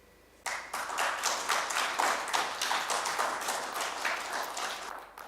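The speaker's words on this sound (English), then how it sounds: "I think she deserves another round of applause." An audience at a Kakamega County investment forum bursts into steady applause after a speech, clapping starting abruptly and continuing evenly for about five seconds before tapering.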